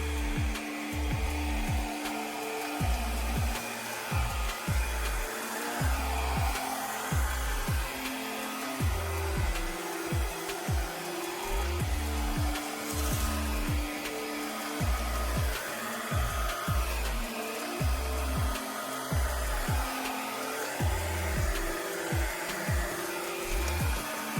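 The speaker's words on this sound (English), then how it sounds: "Let's grab the blow dryer and get to work." A blow dryer hums continuously at a steady low setting, with light rhythmic knocking and handling noises underneath, close by.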